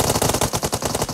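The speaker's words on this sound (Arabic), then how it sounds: "والله طلقة" Automatic gunfire from a video game rattles in a rapid, evenly spaced burst of about a dozen shots, loud and close with no voices over it.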